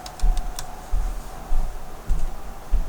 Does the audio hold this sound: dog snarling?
no